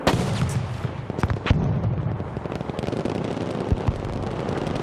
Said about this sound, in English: Oh, I hear bullets flying.